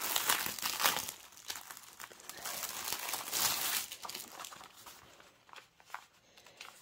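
Plastic and cardboard packaging of a cross-stitch kit being crinkled and torn open up close, a run of irregular rustling and crackling that fades toward the end.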